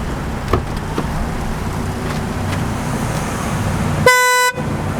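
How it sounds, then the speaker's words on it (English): A Toyota Supra's horn gives one sustained, loud, buzzy honk of about half a second, cutting sharply over steady road and traffic noise. No one speaks. "the thing I absolutely hate most about this car, and I'm sure everybody else hates as well, is this damn horn"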